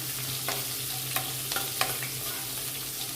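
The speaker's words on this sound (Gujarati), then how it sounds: "આ રીતે થોડી વાર મરચાંને સાતળવા દઈશું તેલમાં" Two mild green chillies sauté in hot oil for a tempering, hissing at a low, even level while a utensil scrapes and clicks against the pan three or four times.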